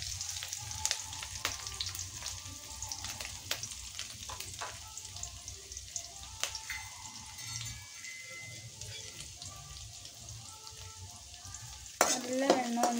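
Ginger garlic paste and chopped green chillies frying in oil in a pan, a steady crackling sizzle with stirring clicks and scrapes, close and moderately quiet, with a louder burst of spatter near the end.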